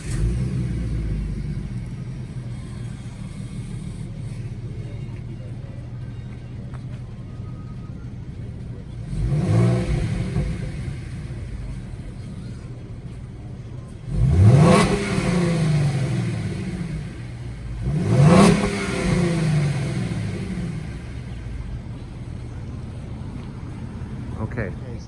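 Stock exhaust on a 2017 Ford Mustang V6 idles low, then barks through three sharp revs that rise and fall, the last two close together, with no talk over them.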